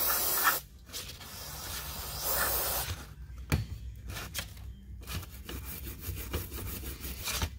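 A brass bristle brush scrubs a Carter BBS 3491S carburetor soaked in carburetor and choke cleaner, making close, rough, hissing strokes in irregular bursts separated by short pauses.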